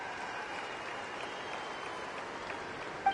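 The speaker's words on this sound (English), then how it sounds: "Let us send her off with a round of applause and show her the warmth and gratitude of our people." Steady crowd applause from a festive Natlan parade in Genshin Impact, a dense continuous wash of many hands clapping at a constant level throughout, with no break and a small bump near the end.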